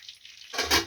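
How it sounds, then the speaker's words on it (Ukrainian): Eggplant and vegetables hitting hot oil in a pan, a quiet hiss that suddenly bursts into loud close sizzling halfway through. "Вже тут кипить"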